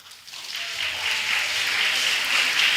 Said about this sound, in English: Let's clap him up.